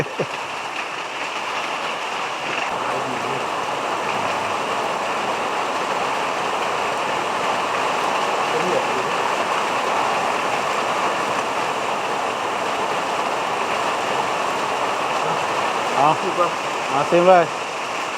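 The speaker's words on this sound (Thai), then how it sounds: "ฝนหมดเลยพี่น้อง ฝนกับมา" Steady rain falls outdoors in a broad, continuous wash, loud and constant throughout, with a voice calling out faintly now and then near the end.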